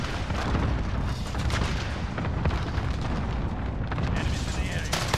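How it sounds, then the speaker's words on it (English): Cluster strike explosions thunder in Call of Duty: Modern Warfare multiplayer, a dense, continuous barrage of booms rumbling loudly for several seconds, with game voices over the din. "Allied cluster strike incoming"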